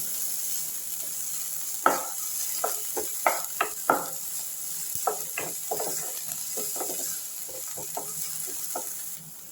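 Garlic sizzles and sautés in a hot pan under a steady hiss, with a scatter of sharp scraping and stirring clicks from a utensil.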